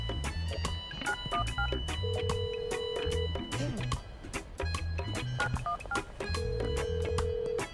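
Phone dialing tones in the game Schedule 1 as a character calls the police, short steady beeps repeating over busy game music and background noise.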